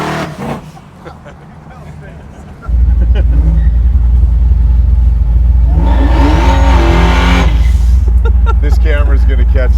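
A V8-swapped Jeep Wrangler doing a burnout, its engine roaring into a loud, sustained drone with whining tire spin, close and steady after a brief quieter start, while people talk over it.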